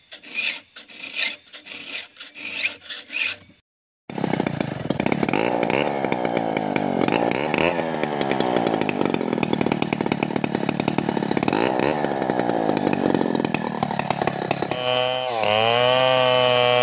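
A few rasping file strokes on a chainsaw chain give way to a short silence. Then the chainsaw roars to life and runs loudly and continuously at close range, its engine pitch rising and falling as it works through hard wood.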